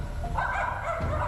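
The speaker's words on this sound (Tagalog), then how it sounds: "may mga aso, maingay, galit na galit sila." Dogs bark and yip close by near a sunken church in Bulacan, making a short, agitated burst of yelping with no talk over it.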